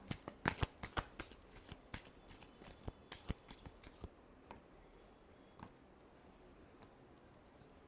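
A deck of tarot cards is shuffled by hand in a rapid run of soft riffling taps and flicks, close and quiet. The shuffling thins out to a few scattered taps toward the end.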